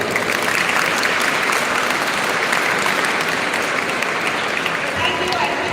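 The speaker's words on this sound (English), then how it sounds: "So let's give a big round of applause." Sustained, dense applause from a school audience fills the whole stretch, steady and loud without pauses, like a crowd clapping together in a hall.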